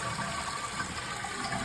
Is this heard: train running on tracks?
no